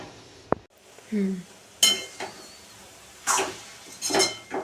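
Carrot halwa stirred in a pan, then covered, with a few separate metallic scrapes and clinks of spoon and lid, quiet and spaced apart, with a brief voice sound near the start.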